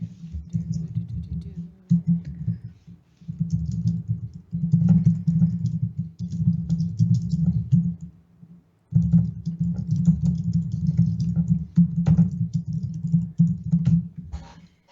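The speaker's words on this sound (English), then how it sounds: "My typing?" Someone types on a computer keyboard close to the microphone, loud clattering bursts of keystrokes broken by short pauses and one longer gap, with no clear talk over it.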